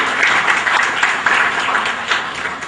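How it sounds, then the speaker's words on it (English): A seated audience gives a full round of applause after a talk on domestic transfer pricing, with even, continuous clapping that holds loud throughout and fades slightly at the end. "request you all to carry out with this round of applause"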